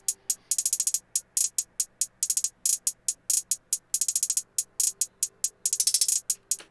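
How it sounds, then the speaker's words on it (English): Programmed hi-hats in a Lil Uzi Vert-style hyperpop beat, bright and crisp, ticking in fast rolling bursts and triplet-like runs with short gaps between clusters, steady and fairly close, heard alone without talk. "And then I just did these hi-hats just now."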